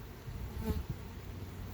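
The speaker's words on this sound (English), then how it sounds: "you can see there's still lots of bees in here" Honey bees crowd a hive frame, a close, soft, continuous buzzing hum with faint wingbeat flutters and no talk.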